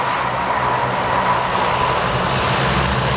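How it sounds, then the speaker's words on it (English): A Messerschmitt Me 262 jet with Jumo turbojets flies past at an air show, a loud, steady roar of jet engines that holds unbroken and close throughout. "Jumo turbojets of the Swallow, the ME-262."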